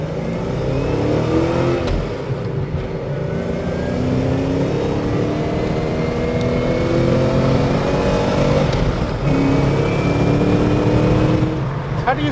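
A 1978 Aston Martin V8 Vantage flip-tail accelerates hard in third gear onto an on-ramp, its V8 roaring and rising in pitch continuously, heard loud from inside the cabin.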